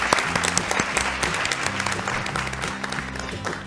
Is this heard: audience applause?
yes